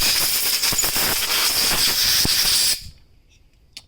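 A quick hissing blast from a spray can, blown through a part of a Kohler lawn mower engine under repair, loud and steady for nearly three seconds before cutting off abruptly into near silence.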